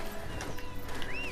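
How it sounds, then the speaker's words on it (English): A horse gallops at sprint speed in the Dynasty Warriors 9 video game, quick muffled hoofbeats for a brief moment under game sounds with a rising tone near the end. "Now watch when I sprint."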